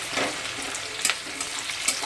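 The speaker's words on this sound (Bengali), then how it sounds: "এবার পেঁয়াজ কুচিটা একটু ভাজা ভাজা হবে, তারপরে দিয়ে দেবো আমি টমেটো।" Chopped onions frying in oil for chole, an even sizzle close by with a few sharp scrapes and clinks of a spatula stirring the pan, no speech.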